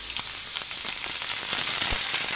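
Onion and garlic paste frying in reused fish-frying oil in a wok makes a continuous loud sizzle, with fine crackles and a few soft pops and stirring knocks. No one speaks.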